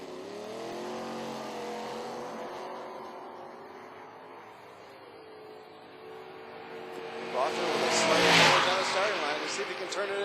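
A 71 Nova and a 67 Ford Mustang launch in a drag race run, engines droning and rising in pitch before a loud surge of acceleration near the end, with an announcer talking throughout.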